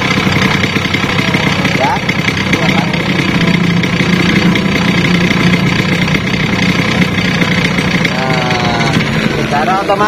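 A Yamaha RS 100 motorcycle with a clogged side-oil feed idles steadily and loudly close by for the whole stretch, while someone talks over the constant engine rumble.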